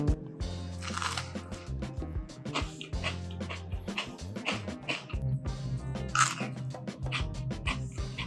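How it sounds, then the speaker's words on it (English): Loud, close crunching as someone bites and chews something crisp, with repeated crackling bursts and chewing sounds throughout. "Let me take a bite and show you how crunchy this is."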